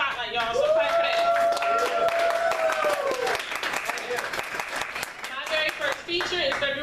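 Applause and clapping from a poetry night audience, mixed with loud overlapping voices and a sung or sustained vocal tone, lively and close throughout.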